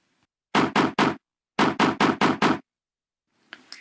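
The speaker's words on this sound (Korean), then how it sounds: "갑자기 문을 두드리는 소리가 들려왔어요" Knocking on a door, two bursts of sharp close raps, three and then five, separated by silence, with a faint rustle afterward.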